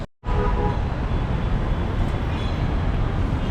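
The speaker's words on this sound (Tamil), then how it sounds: "இங்கே தான் ட்ராம் ஸ்டேஷன்." A tram at a tram station in Alexandria, Egypt, produces a loud, steady rolling rumble and hiss that begins abruptly and continues without pause, with no talk over it.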